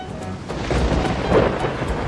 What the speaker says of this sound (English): A storm is coming.